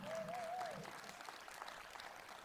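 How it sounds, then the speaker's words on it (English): Steady applause from a crowd at an outdoor rally fills the clip, with a short voice-like tone early on riding over the clapping. "let's give a round of applause to Tommy for putting on this event"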